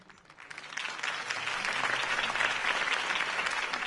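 Applause from a crowd in the video game Batman: The Telltale Series swells up quickly and holds steady, a dense wash of clapping at moderate volume.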